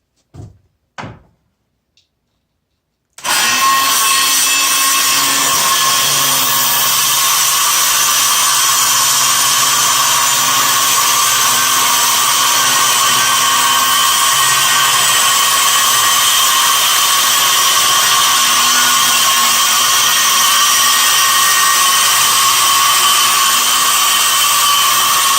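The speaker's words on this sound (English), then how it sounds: "I'm going to take an inch off of this in the table saw" A table saw rips an inch off a piece of scrap wood. A few light knocks come first, then the saw roars in loud and close and holds a steady, sustained whine for over twenty seconds.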